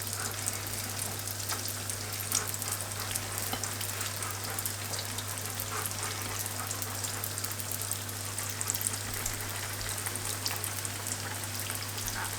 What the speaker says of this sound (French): On va venir mettre nos rouleaux et on va les faire frire de chaque côté.